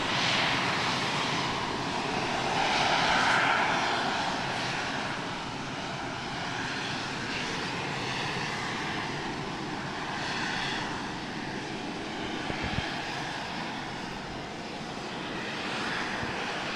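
Loud rocket venting at the Starbase launch site makes a continuous broadband roaring hiss that holds steady from start to finish, with no voices.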